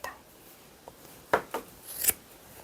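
Scissors snip through crochet yarn loops, a few short crisp cuts spaced apart, close and fairly quiet.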